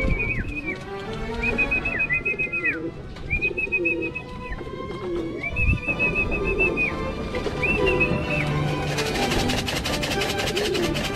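Racing pigeons at a derby in Sariaya, Quezon, heard outdoors among repeated rising whistle calls and cooing, with bird sounds, crowd noise and a loud burst near the end.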